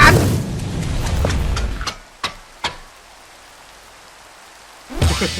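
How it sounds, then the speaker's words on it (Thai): Steady rain falls in the Minecraft video game, a dense continuous hiss for about two seconds with a few sharp drop-like hits, then it stops to near silence before briefly returning at the end. "ฝนตกด้วยหยุดฝนไปเลยละ"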